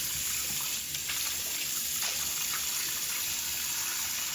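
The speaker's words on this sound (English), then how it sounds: "Now I'm going to fill the sink back up." A sink being filled with tap water for washing gloves: a continuous, fairly loud gushing rush of running water, steady throughout with no voices.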